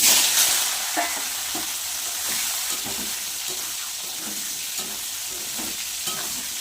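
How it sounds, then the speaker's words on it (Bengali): Soybean chunks and potato sizzle and fry steadily in hot oil with bay leaf and dried chilli, with the scrape and clatter of stirring recurring throughout. "তেলের মধ্যে দিয়ে দেবো তেজপাতা শুকনো লঙ্কা সোয়াবিন আর আলুটা ভেজে নেব"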